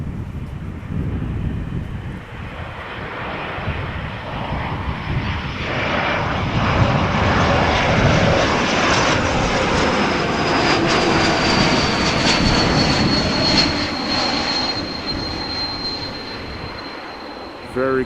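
An Airbus A220-300 jet arriving at Amsterdam Schiphol Airport, its engines roaring as it approaches and a distinct high whistle rising and gliding above the rumble, passing close, then slowly fading.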